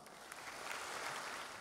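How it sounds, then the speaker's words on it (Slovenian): An audience at a high school graduation ball claps in a steady, faint wash of many hands, brief and without voices. "Tako da dejmo en velik štartni aplavz."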